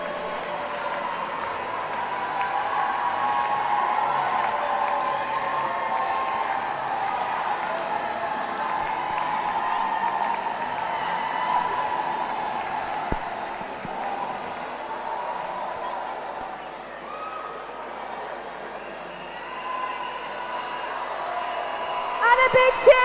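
A crowd at a live event applauds and cheers for Team Zebra, a steady wash of clapping and voices that holds throughout and swells slightly near the end.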